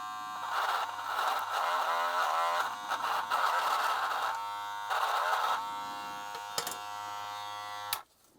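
A Wahl Gold Magic Clip hair clipper with an upgraded motor hums in a loud, steady electric buzz, its pitch dipping and wavering as it is loaded during a torque test, before switching off abruptly near the end.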